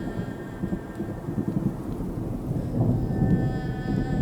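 A thunderstorm rolls over the Serengeti plains, with steady rain hissing across the ground, low thunder rumbling underneath and swelling slightly louder toward the end, no voices present.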